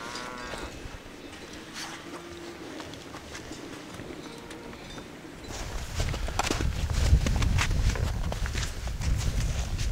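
Cattle low and moo across an alpine pasture in the Dolomites, the calls close and repeated while the livestock shift about, with a denser, louder rumble of movement in the second half.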